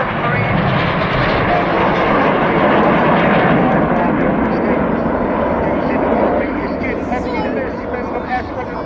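Red Arrows display jets at the Cosford airshow roar past in a loud, sustained wash of engine noise that stays steady throughout, with a commentator's voice faintly under it.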